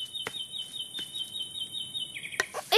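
A cartoon bird chirps in short, repeated high tweets over a steady tone, with a few sharp clicks and a brighter flurry of calls at the end, close and clear.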